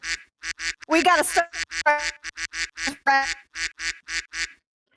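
A duck quack sound effect played over a Discord voice chat, repeated in a quick rhythmic string of loud quacks while a person speaks briefly in between.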